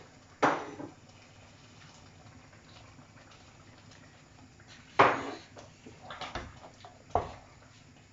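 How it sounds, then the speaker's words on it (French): Cooked meat and dried cod being stirred into a peanut sauce in a pot for ndolé, giving a few scattered scrapes and knocks of a utensil against the pot over a low, steady background bubble. "Voilà, j'incorpore la viande et la morue aussi."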